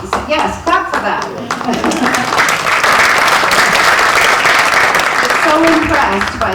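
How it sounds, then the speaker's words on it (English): A community club audience bursts into loud, close applause that swells and holds steady, with a voice speaking briefly before the clapping takes over. "yes, clap for that"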